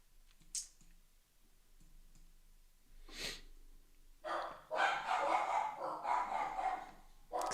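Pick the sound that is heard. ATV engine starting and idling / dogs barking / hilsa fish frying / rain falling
dogs barking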